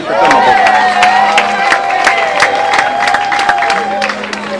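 A crowd at a company awards ceremony claps and cheers loudly and continuously, with sharp claps standing out over a sustained tonal sound and a low hum underneath.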